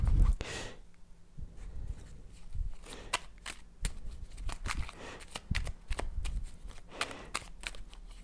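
Tarot cards riffled and shuffled by hand during a card reading, a string of soft crisp flicks and slaps up close with brief pauses between bursts and faint room noise.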